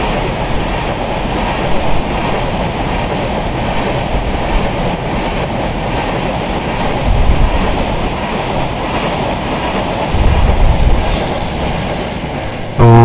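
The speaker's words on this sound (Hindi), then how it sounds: "मरोली स्टेशन पे बैक टू बैक ओवरटेक होते हुए दिस टाइम 12431 तिरुवदमपुरम हजरत निजामुद्दीन राजधानी एक्सप्रेस" A Rajdhani Express rolls through Maroli station in an Open Rails/MSTS train simulator, its wheels producing a steady, loud rumble with rhythmic clickety-clack over the rails throughout, no voices present.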